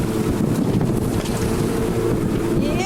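A ski boat's outboard motors running at sea while tuna fishing at Protea Banks: a steady low drone under heavy wind buffeting and wave wash, with a faint whining rise near the end.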